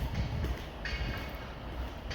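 A metro train passes behind a row of new cottages, giving a steady, continuous rail rumble with a faint high squeal, moderately distant and unbroken.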